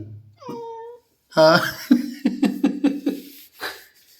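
A pet cat lets out a short, clear meow, then, after a pause, a run of rapid, breathy, snorting pulses close to the microphone, with no talk.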